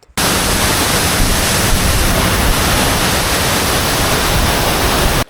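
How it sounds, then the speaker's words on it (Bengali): Nokata waterfall in Rangamati with a strong, forceful current: a steady, dense roar of rushing water fills the whole stretch, loud and unbroken from start to end. "এই ঝর্ণাটির উচ্চতা তুলনামূলক একটু কম তবে পানির স্রোত প্রচণ্ড"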